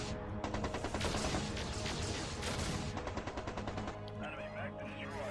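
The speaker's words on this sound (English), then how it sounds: "And that's, I believe, a heavy autocannon on the Atlas." A heavy autocannon on an Atlas mech fires in MechCommander 2, a dense stream of rapid, loud cannon shots that keeps hammering for several seconds before thinning toward the end.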